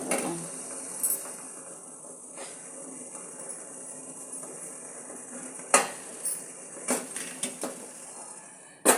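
Pots and utensils clatter while dissolved jaggery syrup is strained for sakkarai pongal, a soft steady kitchen bed broken by several sharp metallic clinks and knocks toward the end.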